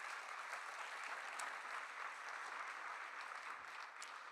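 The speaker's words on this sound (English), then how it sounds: "So a round of applause to them as well in this collaboration." Steady applause from a conference audience at a morning plenary session, sustained and even throughout with no talk over it.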